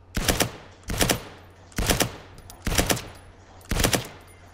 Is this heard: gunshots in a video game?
yes